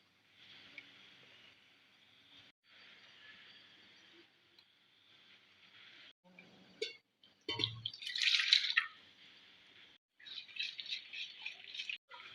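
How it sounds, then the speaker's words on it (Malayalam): Water is poured into ground coconut spice paste for a fish curry with raw green mango, a steady hissing trickle that pauses briefly, then returns as louder splashy bursts near the end. "അരപ്പിൻ്റെ വെള്ളം കൊണ്ട് ഒഴിച്ചു കൊടുക്കുക"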